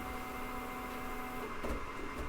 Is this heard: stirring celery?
no